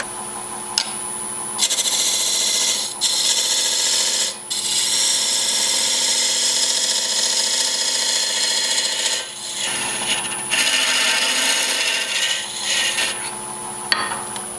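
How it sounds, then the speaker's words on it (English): On a woodturning lathe, a box scraper cuts the inside of a wooden box, giving a loud, continuous rasping scrape with brief pauses where the tool lifts off, over the lathe's steady hum. "I'm going to finish the inside of this. Use a box scraper mostly."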